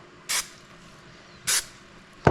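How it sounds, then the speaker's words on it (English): Two short bursts of spray hiss, evenly spaced, onto a carbon fiber part in a 3D printed mold, with a faint click at the end; quiet in between, no talking. "So what I'll do is just gently spray a little bit more"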